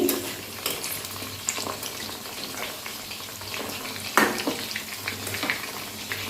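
Chilies frying in oil in a pan give a steady close sizzle with frequent clicks and scraping knocks as they are turned over, one sharper clack standing out midway.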